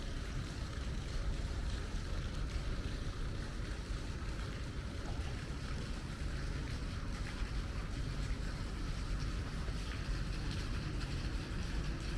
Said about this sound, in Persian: به خصوص صدای آب و این حوضچه‌ای که اینجا هست بسیار آرامش بخش و دلنشینه.